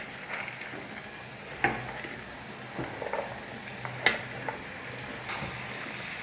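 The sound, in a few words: bottle gourd pieces added to pan and stirred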